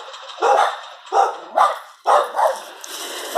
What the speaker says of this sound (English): I'm going to go back without making the dogs bark again.